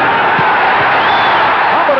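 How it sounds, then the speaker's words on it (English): A boxing crowd at the Scott LeDoux vs Ken Norton fight keeps up a dense, roaring cheer with scattered whoops, loud and continuous, under a voice talking. "as you can hear, the crowd loves it"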